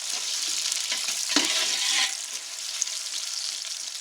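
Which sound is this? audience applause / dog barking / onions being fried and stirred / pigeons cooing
onions being fried and stirred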